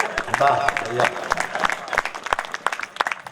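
Brief applause from the audience at a Hindi kavi sammelan poetry gathering in Pandurna, a burst of clapping that thins into scattered claps, mixed with voices and crowd murmur.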